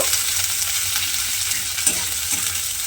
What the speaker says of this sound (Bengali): সেই পেঁয়াজটা আমি তেলের মধ্যে দিয়ে দিলাম। দিয়ে পেঁয়াজটাকে প্রথমে একটু ভেজে নেব।